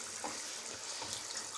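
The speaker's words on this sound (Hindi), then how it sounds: "ये 2 गिलास पानी मैंने लिया है और मैंने इसमें डाल दिया" Water from two glasses poured into the same bowl that held the potato masala, ready for cooking soaked rice; a soft, steady splashing pour runs for the whole moment at low level, with no talking.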